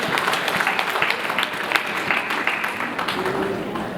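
Audience clapping at an event at Speke Resort, a busy patter of applause with crowd murmur and a voice speaking underneath, steady for a few seconds.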